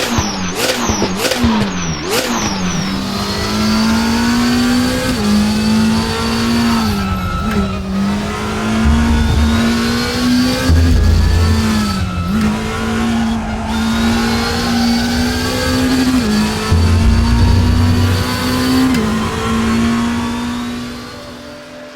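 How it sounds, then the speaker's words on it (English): A DTM race car with a 4-liter twin-turbo flat-plane V8 in a racing simulator, revving loud and close through rapid upshifts and sustained high-rpm runs, with brief tire squeal, engine alone throughout. "the Italians developed a completely new 4-liter twin-turbo V8 with a flat-plane crankshaft"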